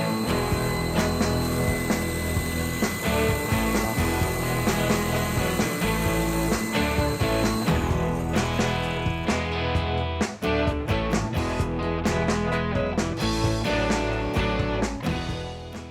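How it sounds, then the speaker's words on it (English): A vintage Craftsman table saw fitted with a dado stack cuts a rabbet in wood, a loud, dense, steady whine and roar of the blade chewing through stock for the full stretch, with no voices. "I marked where to put a rabbet cut and used my dado stack to hog out some room."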